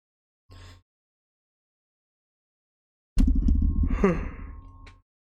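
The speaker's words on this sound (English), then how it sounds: "I'm yawning." A long, drawn-out yawn with a rising-then-falling voiced tone, loud and close, heard alone after a brief short breath and a pause of silence.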